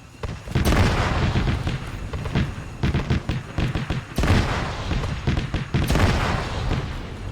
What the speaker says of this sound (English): secondary explosion